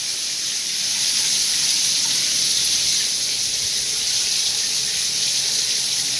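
A Delta Monitor 1700 series shower runs as a steady, even hiss of spraying water, close and continuous with no pauses.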